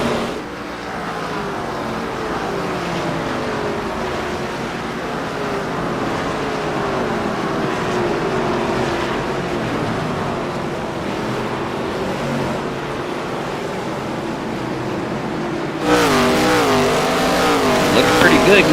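Stock race cars circling a track at an ARCA event, engines droning steadily for a long stretch with sweeping pitch shifts as they pass, then growing louder and harsher near the end, under a commentator's voice.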